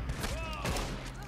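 Shotgun fire in Red Dead Redemption 2, a couple of quick muffled blasts under a player speaking Thai.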